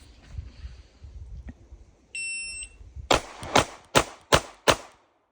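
Sig P365 pistol fired on an outdoor range after a shot-timer beep, five sharp cracks in quick succession spaced about half a second apart, loud and close with no talking.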